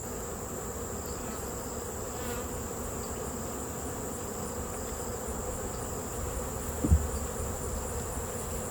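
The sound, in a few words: honeybees buzzing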